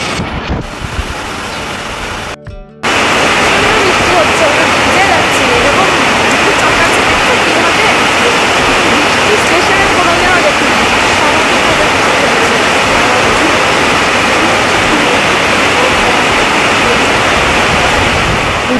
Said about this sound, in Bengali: আর এই একটু পরেই শুরু হয়ে গেল মুষলধারে বৃষ্টি।